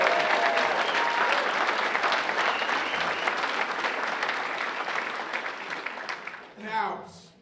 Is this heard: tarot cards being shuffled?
no